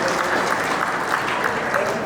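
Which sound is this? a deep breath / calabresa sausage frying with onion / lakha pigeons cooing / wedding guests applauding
wedding guests applauding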